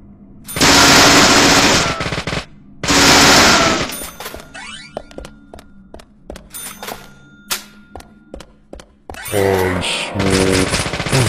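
Gunfire in the video game Deadly Premonition: two long loud sustained bursts of automatic fire, then a run of sharp single clanging shots and metallic pings, ending with another dense burst.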